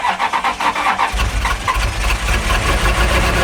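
A Ferrari engine cranks with a quick rhythmic turning-over whir, then fires and settles into a loud, rough running note that holds steady close by, with no talk.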